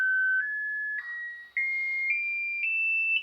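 Frequency sweep test signal playing through a loudspeaker at about one watt, a pure steady tone rising in clear stepwise jumps, loud and alone with no voices.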